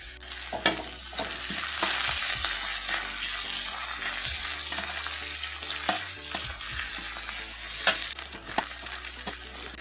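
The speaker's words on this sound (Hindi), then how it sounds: "हरी मिर्च, अदरक। तो थोड़ा सा भूनने देते हैं इसको।" Green chili and ginger with garlic fry and sizzle steadily in a pan for stuffed idli filling, with stirring scrapes and a few sharp clinks and knocks punctuating the continuous hiss.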